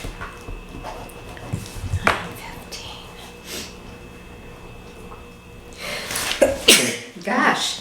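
A single sneeze in a town board of health meeting room, a sharp, close burst with a breathy lead-in and trailing snort near the end, set against low room hum and faint shuffling.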